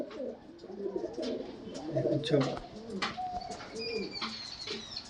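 Pigeons, including a small short-tailed young bird, coo in a series of low throaty phrases with a few brighter chirps above, while someone talks quietly nearby.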